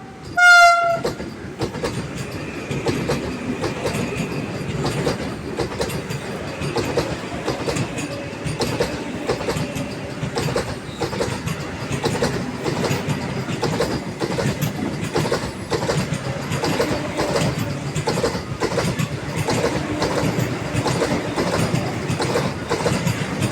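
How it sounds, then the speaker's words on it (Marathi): Solapur Vande Bharat train in rainy green hills near Borghat sounds one short rising horn blast, then a long, steady roar of wheels on track with repeated clickety-clack beats passing close. "वंदे भारतचा टिपिकल हॉर्न आणि मग ट्रॅक साऊंड."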